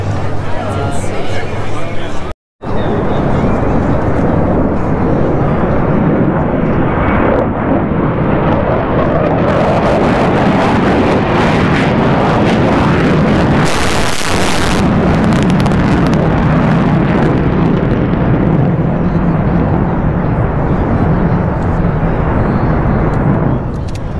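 A B-1 bomber roars overhead at an air show at Ellsworth AFB, a loud sustained jet thunder that swells and stays heavy, with one brief dropout near the start and voices talking through it.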